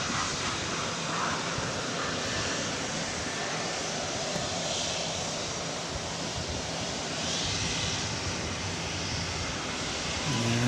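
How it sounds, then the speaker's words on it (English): Boeing Dreamliner jet bound for Barcelona at DFW Airport at night, a steady broadband roar of engines carrying on throughout, distant and continuous, with wind-like noise and no talking. "So here once again is the Barcelona-bound Dreamliner."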